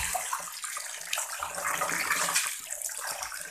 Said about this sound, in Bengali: এরপরে আবার কলের জলে ধুচ্ছি।